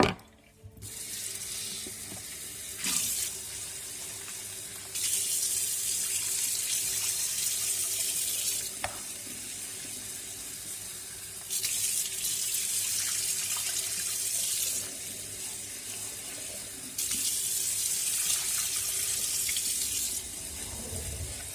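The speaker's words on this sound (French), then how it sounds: "Donc on va rincer les graines une dernière fois." Tap water runs in steady bursts as sprouting seeds for birds are rinsed in a sink, the flow starting and stopping several times, a close, hissing splash with quieter pauses between.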